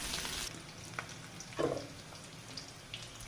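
Chopped onion fries in a pan for a shol fish and bottle gourd dish, a faint, soft sizzle with a brief louder stir-like rustle midway.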